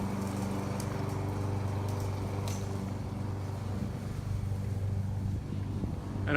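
A lawn mower engine drones steadily and evenly throughout, with a constant low hum and some wind noise on the microphone.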